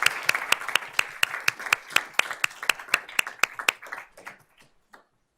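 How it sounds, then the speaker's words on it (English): A small audience claps for a young archer at a wildlife fund event, brisk rhythmic claps that thin out and trail off into silence near the end. "let's give her a round of applause"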